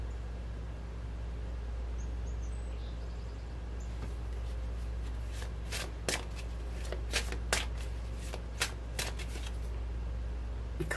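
Tarot cards being shuffled at close range, a run of crisp riffling flutters and soft slaps in the latter half, over a quiet room hum.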